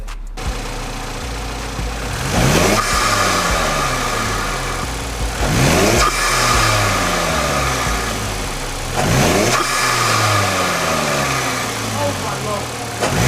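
A turbocharged car engine idles roughly after a cold start, then revs up three times in rising, sweeping surges that fall back to a loud, rumbling idle, close to the listener.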